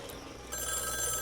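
Telephone ringing in the dystopian platformer game White Shadows, a steady electronic ring with sustained high tones entering halfway through over a dense game music and ambience bed.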